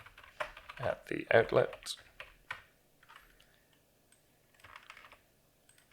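Rapid clicking of computer keyboard keys in an office setting, a close burst of typing followed by a few scattered keystrokes, with a voice speaking briefly over it.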